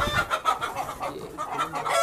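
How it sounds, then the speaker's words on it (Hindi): A Plymouth Rock rooster clucks in a quick run of short, close, fairly loud calls over about two seconds. "ये देखें माशाल्लाह मुर्गा कितना प्यारा है इसकी कलगी बहुत बड़ी कलगी है इस मुर्गे की"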